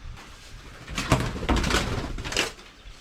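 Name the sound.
bird cooing inside old truck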